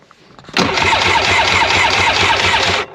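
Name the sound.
Polaris Virage 700 jet ski engine starting up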